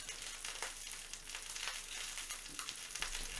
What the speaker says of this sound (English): we're essentially just going to roll our roll around in the pan, making sure that every side is nice and has a good sear on it